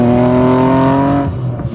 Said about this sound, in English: rear-wheel drive car here.